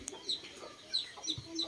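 Chickens being fed on a hot-weather farm give a few soft, short clucks and chirps, faint and scattered against quiet outdoor background.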